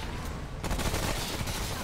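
Rapid bursts of gunfire in a crossfire from the video game Remnant, loud dense volleys that crackle continuously and swell after a brief quieter opening.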